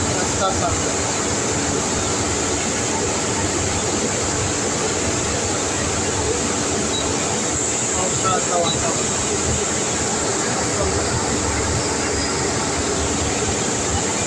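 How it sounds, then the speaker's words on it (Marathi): A loud, steady engine drone fills the driver's cabin of a state transport bus, a deep rumble with rattling and hiss that never lets up. "इंजिनचा आवाज कॅबिनमध्ये एवढा आहे"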